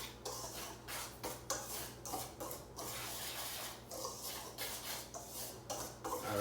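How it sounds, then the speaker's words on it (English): A whisk scrapes rhythmically through dry pita dough ingredients in a bowl, giving repeated scratchy strokes with brief pauses, close and fairly quiet. "now I'm gonna whisk those together, get that equally incorporated."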